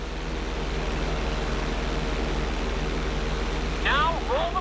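Fixed-wing airplane engine in flight during a GTA V flight-school stunt, a steady low drone held throughout with a few brief chirping sounds near the end.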